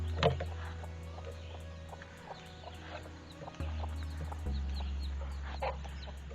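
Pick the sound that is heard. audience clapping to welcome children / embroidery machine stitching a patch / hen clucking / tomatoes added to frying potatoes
hen clucking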